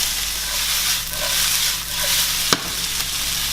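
Kale, garlic and green onion pan-frying with zucchini, a steady close sizzle with soft stirring and one sharp clack of a utensil against the pan.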